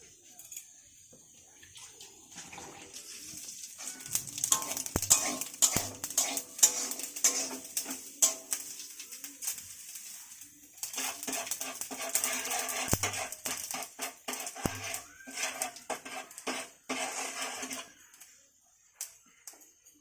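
Small broken rice going into a pot with mustard oil in a village kitchen, metal utensils clinking and scraping in irregular bursts of stirring, near and fairly quiet.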